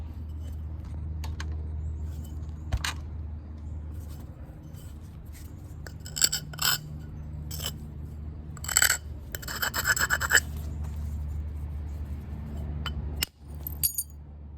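A dacite stone flake is trimmed by percussion flintknapping, producing irregular sharp clicks and brief scraping rasps, close by and spaced out with quiet gaps between strikes.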